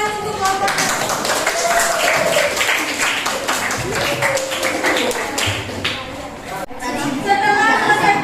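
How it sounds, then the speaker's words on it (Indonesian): A classroom group applauds presenting group 6, with a dense patter of many hands clapping steadily throughout and murmured chatter underneath. "tepuk tangan untuk kelompok 6"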